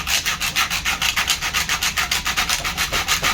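Rhythmic back-and-forth sanding on wood, about six strokes per second, close and steady with no voices.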